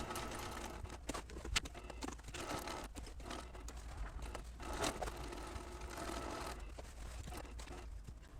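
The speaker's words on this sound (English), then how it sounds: "I'm just going to use a straight stitch and just stitch along the edge" A sewing machine runs a straight stitch along a fabric edge, giving a quiet, rapid rhythmic clatter in short runs with small pauses and no voices.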